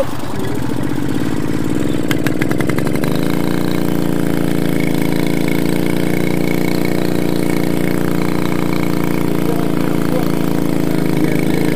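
A Solex moped engine on a circuit sputters into life with a few rough pops, then settles into a steady, loud, buzzing idle that continues throughout.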